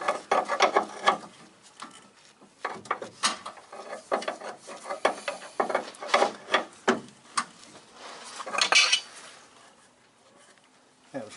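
A wheel alignment adjuster on a Mini Cooper race car is wound in by hand, giving irregular rasping, ratcheting scrapes in uneven bursts, close up, with faint voices now and then.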